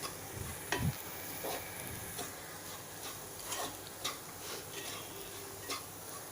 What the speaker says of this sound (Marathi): आपण हे कच्चे शेंगदाणे घेतलेले आहेत त्याकरिता आपल्याला हे असं तीन ते चार मिनटं छान परतून घ्यायचं आहे